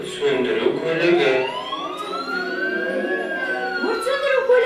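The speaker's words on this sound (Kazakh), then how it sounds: "Өрт сөндіру көлігі" A fire engine siren wails loudly and close, its pitch sweeping slowly up and down in long rising and falling cycles.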